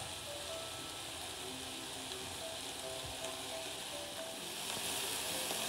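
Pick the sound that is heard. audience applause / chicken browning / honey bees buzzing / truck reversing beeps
chicken browning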